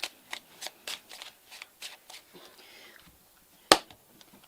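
A deck of cards being shuffled by hand: repeated quick papery riffles in an even rhythm, close and fairly clear, ending with a single sharp slap or snap near the end.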